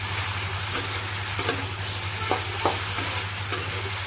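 Cauliflower stir-frying in a pan: a steady loud sizzle with a few light scraping stirs scattered throughout, no talking.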